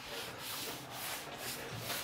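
A small 150-grit sanding block rubs back and forth in steady, even strokes, a close, continuous scratchy rasp pulsing roughly every half second while sanding on a Kitfox 7 aircraft build.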